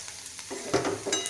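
Quiet sizzling of diced Jyoti potatoes frying in a pan, with soft stirring scrapes over the steady hiss.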